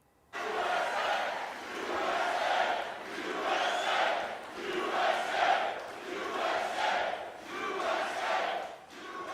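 A large crowd of fans, supporters and political allies cheers and shouts at a Trump rally, a loud sustained roar swelling and easing in repeated waves, with no talk over it.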